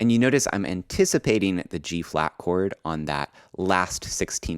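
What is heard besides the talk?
No everyday noises stand out.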